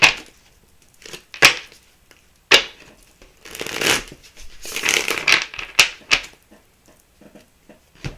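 Tarot cards being shuffled, giving bursts of riffling and flicking with sharp snaps, heard alone and close at moderate volume.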